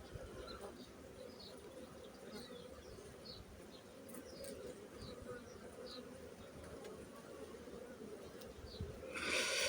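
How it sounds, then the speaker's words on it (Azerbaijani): Honeybee drones crawling over a hive frame give a soft, steady buzzing hum that holds for several seconds, with small wingbeat flickers on top and a louder rush near the end. "bunun koyduğu erkek arılar, bakın dostlar"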